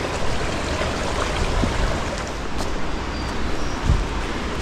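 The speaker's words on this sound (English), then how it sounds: "Nice little water source here" A small water source along a trail in Linville Gorge trickles and burbles continuously, a broad close-up wash of flowing water with no voices.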